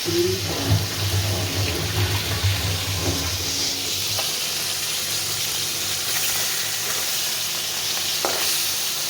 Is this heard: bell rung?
no